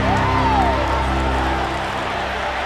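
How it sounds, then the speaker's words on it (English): A sellout crowd at a college football game roars in one continuous, dense wall of sound, with no break from start to finish. "And a huge gasp from this sellout crowd."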